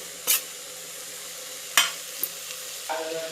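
Egg bhurji with onion and tomato is mixed in a pan with a spoon, giving a few distinct scrapes and taps spaced out over a low, steady sizzle.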